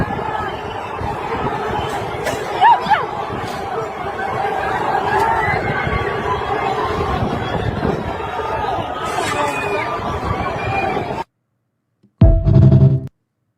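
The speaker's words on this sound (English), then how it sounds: "taken over by a large crowd celebrating Iranians, chanting USA" Large crowd of Iranians celebrating on M Street in Georgetown, Washington, with steady chatter and hubbub throughout, then it cuts out and a brief louder burst follows near the end.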